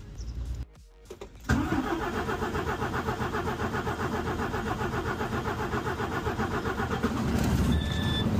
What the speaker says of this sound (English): we'll go and run the truck, or try and start and run the truck now